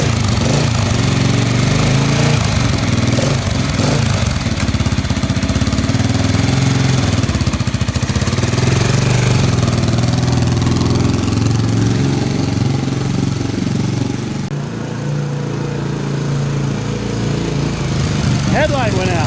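An old Honda XR600R motorcycle engine runs steadily with a rough, knocking idle throughout, close and loud, while people talk over it.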